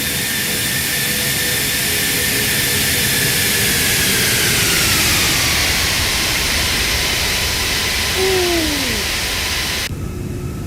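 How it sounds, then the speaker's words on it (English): An Airbus A340 flight simulator gives a loud, continuous jet engine roar during a post-departure flyby, with broadband rushing noise and falling whining tones sweeping past before it cuts off abruptly near the end. "Watch your ears because I'm going to do a flyby right after departure"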